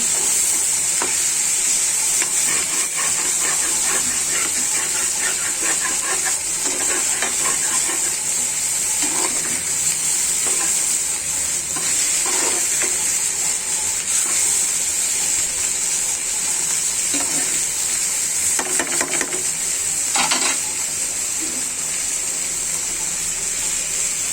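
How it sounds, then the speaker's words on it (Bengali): Rohu fish fries in oil in a pan, a loud, steady sizzle that holds throughout with faint scraping and stirring sounds over it and no talk. "আমি আমার মাছ ভাজিটা এইভাবে করে নেব"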